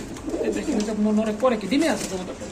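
A Jacobin pigeon coos in a few low, throaty rolling calls, heard close, while someone talks over and between them at a pigeon market.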